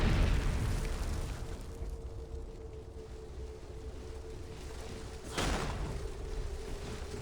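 Artillery bombardment explosions in the battlefield of Warhammer: Mark of Chaos, a low rumbling boom at the start fading into a sustained roar, with a second sharp blast near the end.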